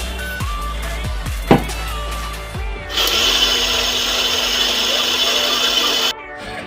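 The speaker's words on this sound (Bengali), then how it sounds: "আটাটা এখানে মিলিয়ে আমি গ্রাইন্ড করে নিই আবার, আর তার সাথে একটু জল অ্যাড করে দিই" Mixer grinder whirring as it grinds dosa batter with added water, a steady loud buzzing drone that starts abruptly and runs about three seconds before cutting off, preceded by clinks and handling noises.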